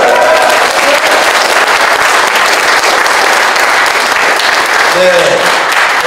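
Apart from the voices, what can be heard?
applause of approval at a party meeting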